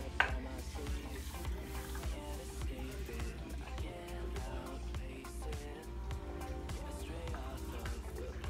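Lemon juice, sugar and water being stirred in a pan over low heat, with a steady soft sizzle and repeated scraping stir strokes throughout, close and continuous.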